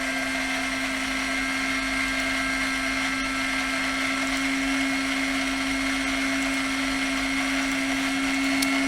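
A small DC motor driven through an L298 driver from a Raspberry Pi spins at full speed, giving a steady, loud, continuous whine with a strong constant hum throughout, no talk over it.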